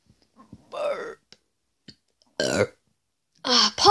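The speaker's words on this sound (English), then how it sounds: "Burp." A cartoon character lets out a loud burp, heard as three short voiced bursts separated by quiet gaps, close and dry against near silence.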